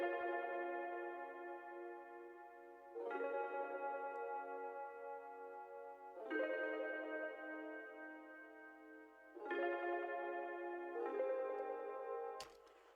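Soft synth key pad from a Chaos Theory preset playing simplified sustained chords, four swelling chord hits roughly three seconds apart, each ringing out smoothly with reverb, with no voices.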